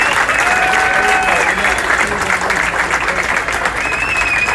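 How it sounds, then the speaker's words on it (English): Loud, sustained applause breaks out from the crowd at the Arkansas state bowling tournament as teams are honored, dense clapping with some crowd noise and faint voices mixed in. "let's give everybody a big round of applause for making it to overall state"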